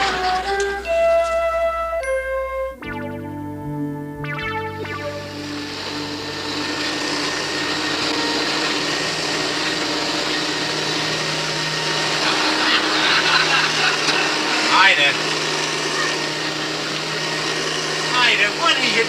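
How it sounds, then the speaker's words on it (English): A vacuum cleaner run over a rug at night, a loud steady motor whine that starts after a brief burst of music and drones on under talking voices. "I'm vacuuming the rug"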